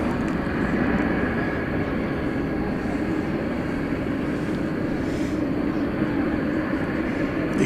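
British Airways Airbus A380 airliner moving at Dallas Fort Worth airport, a steady broad engine rumble that stays constant and moderately distant, with a voice faintly under it.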